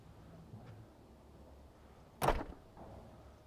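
A 2010 Audi Q7 6.0 TDI V12 power tailgate closes by itself: a quiet motor hum ends in one firm, close thud as the hatch latches shut.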